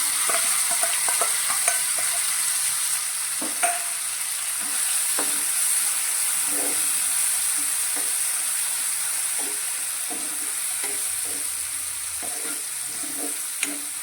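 Finely chopped tomato and onion sizzle steadily while sautéing in a pan, with a constant frying hiss broken by repeated scraping and stirring strokes of a spatula; no voices.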